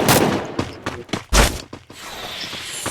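Burst of gunfire in a shooter video game: several sharp shots in quick succession, then a loud blast and a few more cracks, close and punchy.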